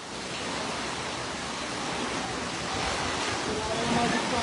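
A steady, broadband roar of strong floodwater current rushing during Typhoon Kristine, continuous and close, swelling slightly toward the end with no clear talk over it.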